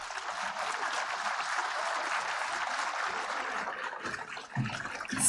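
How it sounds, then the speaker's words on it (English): A crowd at a literary festival conversation event claps steadily for several seconds, a dense wash of applause that thins out near the end. "With a huge round of applause, let's welcome Stephen Fry."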